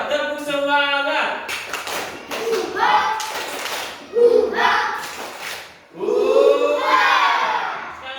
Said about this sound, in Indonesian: Sekarang nih, tepuk semangat.